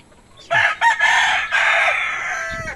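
A black rooster kept in a cage crows once nearby, a loud drawn-out cock-a-doodle-doo with a few clipped opening notes, fading into a brief cluck at the end.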